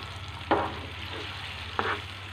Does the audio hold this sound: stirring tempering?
yes